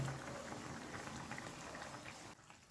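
Soybean curry with ground garam masala bubbling in a pot, a steady dense simmering hiss with faint popping throughout, close and continuous, dropping off abruptly near the end.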